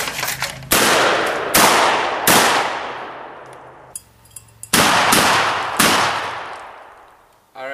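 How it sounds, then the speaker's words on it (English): Shotgun blasts fired at clay targets on an outdoor range, five loud sharp reports with long ringing decays, spaced a second or more apart, with small clicks between shots. "you want to just yank the trigger and pull, and the clay will bust"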